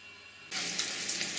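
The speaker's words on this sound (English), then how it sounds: "I'll just check that the shower is working properly." Aqualisa shower, just fitted with a new cartridge, switches on abruptly after half a second of near silence, then water runs in a steady, bright hiss close by.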